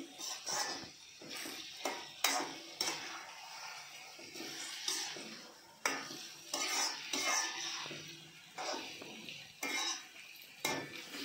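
Brinjal and egg curry being stirred in a pan, with repeated scrapes and knocks of a spoon against the metal over a faint sizzle, close up and irregular, with no one talking.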